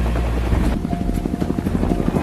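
Two military helicopters arrive in a war film scene, a loud, close rotor thump pulsing rapidly and steadily over a heavy low rumble.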